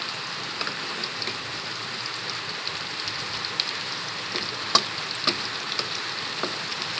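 Steady outdoor rain hisses continuously at moderate level, with occasional sharper drops and ticks on top, while sponge gourd is being fried nearby.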